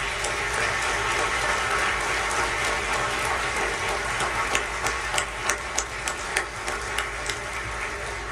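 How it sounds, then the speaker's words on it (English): An audience at a State Department anti-corruption champions award ceremony applauds, with a dense wash of clapping that thins into a few distinct, separate claps toward the end. "How about one more round of applause for our champions?"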